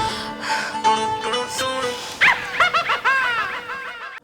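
A dog barks and yips close by in a quick run of sharp, high calls mixed with whimpering, loud and alone with no talk.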